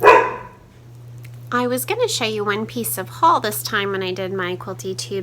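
A household dog lets out a quick bark at the very start, close and loud, followed by a pause and then someone talking over a steady low hum.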